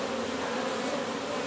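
Honey bees in an open brood box during a hive inspection give off a dense, steady buzz, close and continuous.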